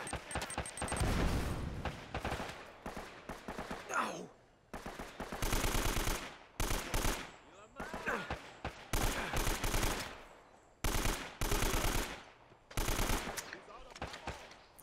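Bursts of automatic AK rifle fire ring out in an Uncharted gunfight, loud and close, coming in repeated clusters with short pauses between volleys and stray single shots.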